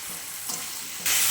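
Tomato, ridge gourd and eggplant fry in a pan with onion, black cumin and green chili, giving a steady sizzle that swells sharply louder near the end as the vegetables go in.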